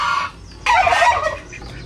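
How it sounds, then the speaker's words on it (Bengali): A chicken gives a brief cluck, then after a short pause a louder and harsher run of squawking clucks follows close by, in a rural yard. "একটা আছে বদমাইশ মুরগি কামড়ায়"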